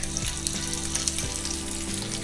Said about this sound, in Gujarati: તડકા માટે આપણે મરચાં અને લસણ કાપેલું છે એ જ નાખવાનું છે.